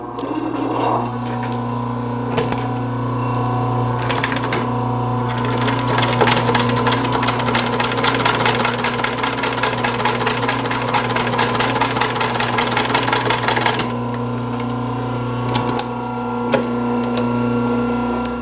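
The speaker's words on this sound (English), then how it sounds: "I've got my machine set at a small stitch size for these seams." A sewing machine runs a steady, fast stitching burst over pleated fabric seams set to a small stitch length, rising loud in the middle and then falling back to a low motor hum with soft mechanical ticks.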